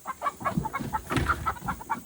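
Chickens in a coop cluck close by in a quick run of short, evenly spaced calls, several birds overlapping, with no one speaking.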